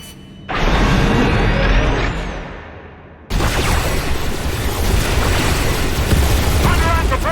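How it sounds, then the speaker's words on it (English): Ship cannons fire in a space battle in the Star Wars: The Old Republic video game, with two loud booming explosions a few seconds apart followed by sustained rumbling and crackling blast noise. "You are attacking friendly vessels!"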